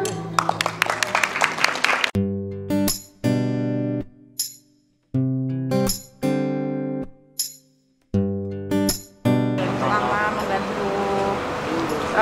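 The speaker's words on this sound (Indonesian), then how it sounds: "Sekali lagi tepuk tangan dong." Dinner guests burst into dense, sustained applause at the close, following a stretch of sustained musical tones broken by pauses. The clapping is full and fairly close, filling the room until the end.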